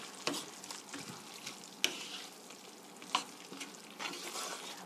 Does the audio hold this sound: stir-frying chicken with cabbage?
yes